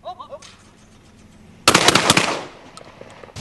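A gunshot during a hare hunt with a hound: a sudden loud blast about halfway through with a rattling, echoing decay, preceded by faint quiet sounds.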